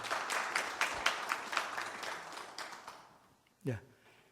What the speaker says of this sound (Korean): 대중스님들께서는 큰 박수로 맞아주시기 바랍니다